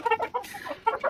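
Local village chickens cluck in short, close bursts of a few rapid notes each, with no talk in the background.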